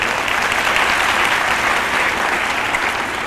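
An audience at a religious lecture breaks into loud, dense, sustained applause, a steady wash of many hands clapping throughout with no talk on top.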